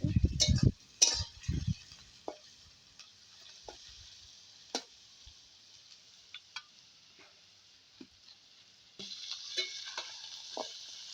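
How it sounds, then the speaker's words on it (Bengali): Chopped onions sizzle softly in a pan, with a few loud clatters of the stirring spoon at the start and then sparse light scrapes and taps over a gentle, steady frying hiss. "পেঁয়াজটা হালকা হালকা"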